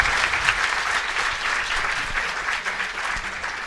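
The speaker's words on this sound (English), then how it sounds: "So you can clap." An audience bursts into steady, dense applause that fills a hall, sustained and even throughout with no talking over it.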